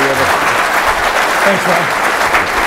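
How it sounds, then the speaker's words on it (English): Audience applause for two guests, a general and a secretary, at an evening cocktails event, steady dense clapping that runs throughout while someone speaks briefly over it near the start. "Big round of applause for both of our guests tonight"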